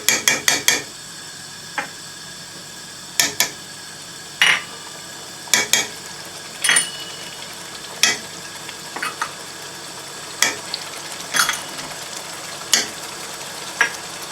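A spoon clanks sharply and irregularly against a pan while spice masala with curd fries on high flame, the metallic strikes loud and close over a soft continuous sizzle.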